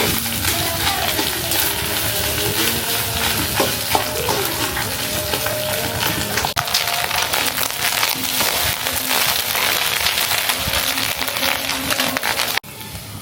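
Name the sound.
egg frying in a pan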